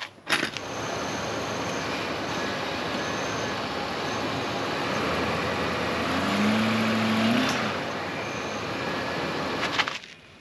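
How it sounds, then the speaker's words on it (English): A Suburban 8.1 engine with a broken motor mount runs with its fan hitting the shroud, giving a steady loud mechanical roar and rattle with a brief rising whine midway and clunks at start and end. "I get this weird sound of the fan rotating, going up into the fan shroud"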